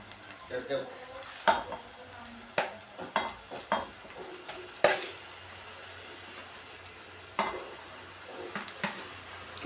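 Potatoes and green coriander get stirred into onions frying in a pan, with sizzling under repeated scraping strokes of a spoon against the pan, irregular and close, no talking.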